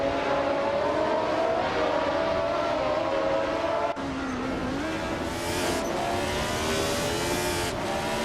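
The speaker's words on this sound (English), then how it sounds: "Hope you're ready for some exciting AI car races." AI-driven race cars in a video game roar past in a continuous wash of engine whine, with pitch shifts as the cars change gear, loud and close throughout.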